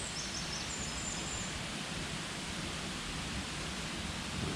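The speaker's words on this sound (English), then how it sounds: "You've got the sound of the stream and the little waterfalls as well." A woodland stream with little waterfalls in Worden Woodland, Leyland, pours out a constant, close, hissing rush of water, with a couple of faint bird chirps early on and no voices.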